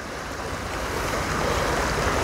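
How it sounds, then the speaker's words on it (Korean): Ocean waves wash against the shore at the tip of a small island on Namhae's many-islanded coast, a steady broadband surf roar mixed with wind buffeting the microphone, continuous and fairly close. "파도 소리 들리시죠?"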